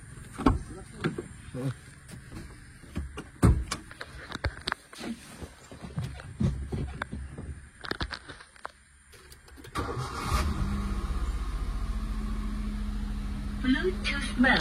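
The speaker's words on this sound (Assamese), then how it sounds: "ইঞ্জিনৰ ষ্টাৰ্ট কৰি দেখাম।" Clattering and handling noises give way to a 2010 Maruti WagonR VXI engine cranking and catching nearby, then settling into a steady, loud idle that continues to the end.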